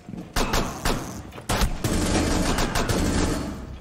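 Rapid bursts of pistol gunfire in the Rainbow Six Siege video game, several sharp shots in quick clusters over continuous game background noise.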